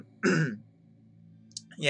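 Two bursts of throat clearing and coughing, the first loud and rough, the second starting at the end after a quiet stretch.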